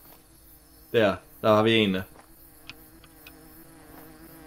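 Bees buzzing around a toppled tree with a beehive in a game, a steady insect drone beneath two short bursts of speech, with scattered faint clicks.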